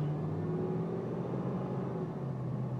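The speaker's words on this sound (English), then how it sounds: "Definitely sounds like a V8, you can tell it has plenty of power." A 1995 Oldsmobile Aurora V8 pulls away with a steady low engine rumble and faint whir, heard from inside the car at moderate volume.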